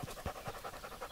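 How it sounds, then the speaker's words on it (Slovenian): Two English pointers, a male and a female, pant rapidly and steadily close by, a soft rhythmic huffing with no talking. "To sta angleška pointera, pes in psička."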